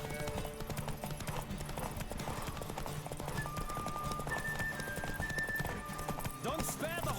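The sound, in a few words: horse hooves galloping, from a video game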